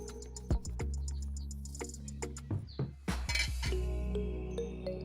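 A lid being set onto a cooking pot of tubani in an African village kitchen gives a few sharp metallic clinks and clatters over a steady low hum, with faint chirps in the background.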